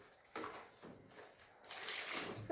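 Water is poured out on a village farm while a calf is being fed, a soft rushing splash that swells near the start and then turns into a steadier, louder gush for the last second.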